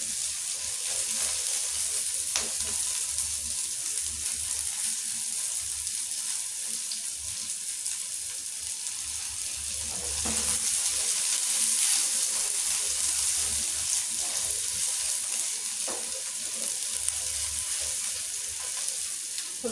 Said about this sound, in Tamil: வெங்காயம் கொஞ்சம் நல்லா வணங்கணும்.